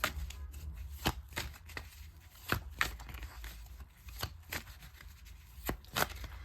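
Tarot cards are shuffled close by in quick, irregular flicks and riffles, soft papery snaps repeating for several seconds with no talking.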